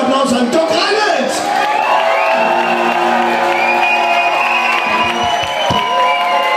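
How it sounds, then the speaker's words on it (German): Loud, sustained audience applause and cheering for a performer at a live event, with whoops and shouting voices rising over dense clapping that continues throughout. "Vielen Dank und riesen Applaus an Doc Reinhardt."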